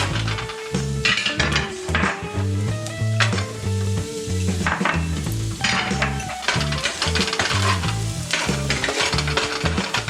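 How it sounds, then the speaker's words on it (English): Garlic sizzles in oil in a preheated pan over medium heat, a dense, continuous close crackle with repeated stirring scrapes and light clinks of utensil against the pan. "But the oil should be a little sizzling."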